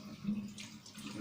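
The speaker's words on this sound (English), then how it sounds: "Wash my hands" Running tap water splashes steadily as hands are washed at a sink, a soft continuous hiss and patter heard close by for a brief moment with no talk.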